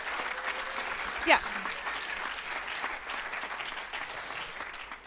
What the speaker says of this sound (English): I want you guys to give another round of applause for our startups